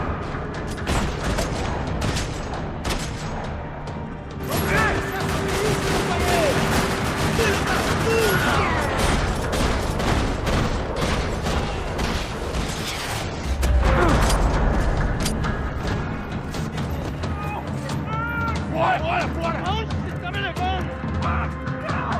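Gunfire fills a parking lot in the video game Max Payne 3: dense, rattling bursts of shots and booms crowd together with mechanical clatter and game music, and voices talk through the chaos.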